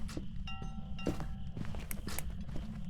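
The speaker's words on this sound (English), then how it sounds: "I can hear the ghost's footsteps right now without getting any electronic disturbance" A ghost's footsteps in the horror game Phasmophobia thud in a steady walking rhythm over a low background hum, with no talk.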